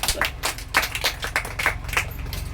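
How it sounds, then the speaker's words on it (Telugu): Congregation clapping hands during a Sunday church service, with sharp, regular rhythmic claps about three per second over a low steady hum, fairly close and with no talking. "చప్పట్లు కొడదాం"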